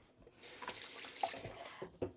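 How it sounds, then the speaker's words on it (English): Hands washed under a running kitchen tap, a steady moderate stream of water with small splashes and clinks as the hands move through it. "let me just wash my hands"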